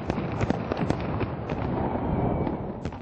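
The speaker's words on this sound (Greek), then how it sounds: "Όταν το ρολόι έδειξε 12, βεγγαλικά και πυροτεχνήματα φώτισαν τον ουρανό πάνω από την κόκκινη πλατεία." Fireworks and firecrackers crackle and bang densely over Red Square in Moscow at midnight on New Year's Eve, a loud, continuous barrage of overlapping pops and booms from across the city.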